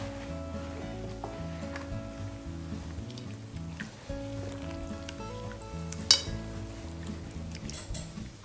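A whole seasoned fish fries in a pan with a continuous close sizzle, a few light clinks of utensils, and one sharp metallic tap partway through, with no talk.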